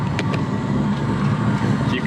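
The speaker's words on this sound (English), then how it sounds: "If you can hear that in the background, someone else's car is getting aligned right now." Steady mechanical drone from a car being aligned in a Nissan tuning shop, a continuous low hum with faint clanks in the background.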